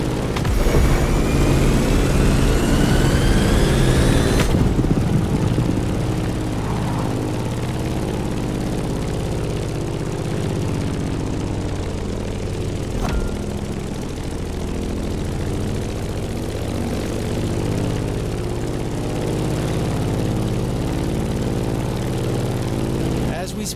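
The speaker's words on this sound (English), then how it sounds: "In the cockpit of a stunning Grumman F8F Bearcat, or simply the Bear." A Grumman F8F Bearcat propeller fighter in a racing video game drones loudly and steadily with a rising engine whine at the start, then settles into a continuous close engine hum, with a voice speaking over it.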